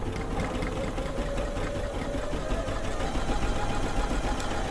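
A sewing machine runs continuously, stitching an applique ear down on a dog quilt top with a steady, close whirring drone and no pauses.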